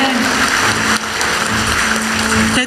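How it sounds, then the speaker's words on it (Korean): Applause from an audience at a ceremony for investment and business agreements fills the space as a dense, steady patter of many hands clapping, running continuously throughout. "다시 한번 박수 부탁드립니다."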